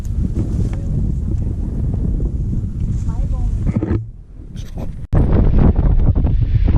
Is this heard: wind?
yes